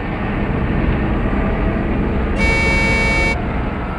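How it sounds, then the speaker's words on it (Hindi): A truck engine rumbles steadily and close in a forest, with a short, loud horn blast sounding partway through. "ट्रक की आवाज? ट्रक जंगल में?"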